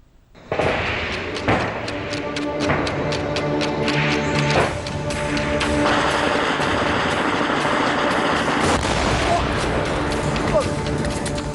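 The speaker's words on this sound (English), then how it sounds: "Guns are booming at the line of control, and it is Pakistan that's feeling the heat." Gunfire and artillery at the India–Pakistan Line of Control: dense, rapid shot cracks and heavy booms layered over a constant loud rumble, with a voice talking over it.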